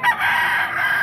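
A rooster crows once, close and loud, at a Bocaue flea market stall selling fowl, a single strained call lasting about a second with no talk over it.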